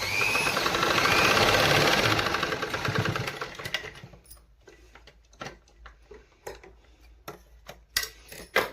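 A sewing machine stitches along a fabric edge with a fast, dense whirring rattle for about four seconds, then falls to scattered clicks and short ticking bursts as the stitching stops and starts.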